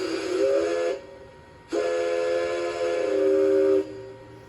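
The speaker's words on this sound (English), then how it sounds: "F2 is the whistle. It's again got the dynamic whistle." Two blasts of a model steam locomotive's sound-decoder whistle, a short one then a longer sustained chord, loud and close with a faint electronic hiss behind; a Bachmann 2-6-0 Mogul with an ESU LokSound 5L decoder.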